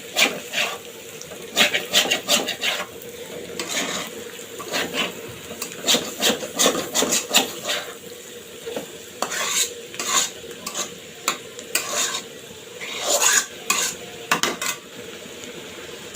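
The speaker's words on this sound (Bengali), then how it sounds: "আস্তে টিপ টিপ করে জাল দিয়ে এটা এখন আমি ভাজবো" Pointed gourd, potato and onion frying over low heat in a pan, with a continuous soft sizzle under repeated scraping and stirring strokes of a spatula against the pan, close and moderately loud with no talk.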